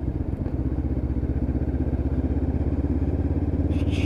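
A Lexmoto LXR 380cc motorcycle engine chugs steadily while being ridden on damp roads. The low rhythmic throb is close and continuous, with no talking.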